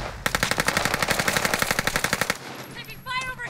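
Rapid automatic gunfire from an M13 rifle in Warzone on Fortune's Keep, a dense rattling burst of about two seconds, loud and close, followed by short game effects.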